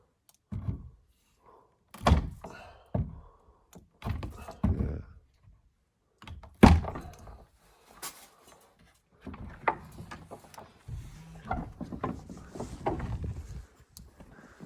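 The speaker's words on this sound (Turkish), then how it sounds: "Şişmiş kapı." A swollen wooden door is forced, giving a series of irregular heavy thumps, knocks and scraping creaks, loud and close, with brief pauses between the bursts of effort.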